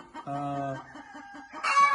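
Country hens cluck in short, close bursts alongside a voice speaking, with a louder squawk near the end.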